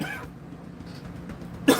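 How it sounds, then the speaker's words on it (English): A single sharp cough from someone with dust in the throat, heard close and loud near the end after a quiet room stretch. "now I can't stop coughing."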